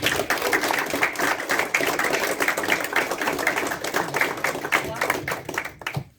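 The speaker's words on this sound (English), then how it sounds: "one last big round of applause for Team Manitoba from the Virden Curling Club" A crowd at a sendoff event for an under-18 youth curling team from a curling club in Manitoba gives a long, loud round of dense applause with scattered sharper claps, fading out near the end.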